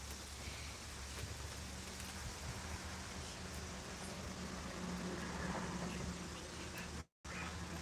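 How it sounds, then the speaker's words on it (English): Steady rain falls and patters on surfaces in a constant hiss during a thunderstorm in Pittsburg, Kansas, with a brief dropout near the end. "rain's trying to stop, but it's not gonna succeed."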